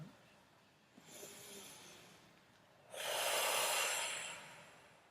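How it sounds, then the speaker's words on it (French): A slow, deep ujjayi breath: a soft inhale at first, then a long, breathy exhale that swells loudly and fades out, with no speech. "Peut-être prendre une profonde inspiration."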